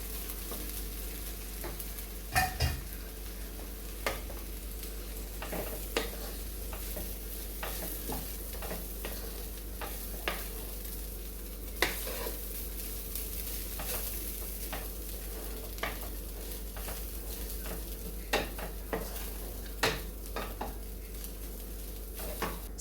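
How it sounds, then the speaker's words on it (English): Softened poha stirred and sizzling in a pan, a steady low frying hiss throughout with frequent light scrapes and clinks of a spoon against the pan. "Add in the softened poha."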